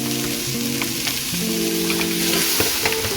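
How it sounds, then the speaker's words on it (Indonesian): Minced meat hisses and crackles in a hot pan, a steady close sizzle with a few soft stirring scrapes, no voices. "Jadi setelah layu baru kita masukkan daging cincangnya."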